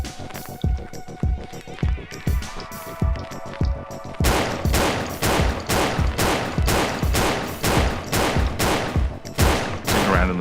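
Gunfire aimed at an alien in the game Paratopic, heard as a loud, fast, regular burst of rapid shots that keeps going without a break, with the firing growing harsher partway through.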